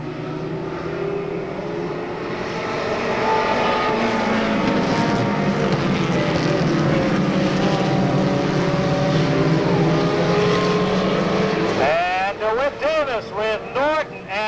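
Stock cars roaring away on a green-flag restart at Monadnock Speedway in 1993, a loud swelling blend of engines at close range that builds and holds, with a few rhythmic pulses near the end.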